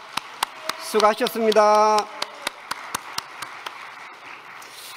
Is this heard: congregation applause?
yes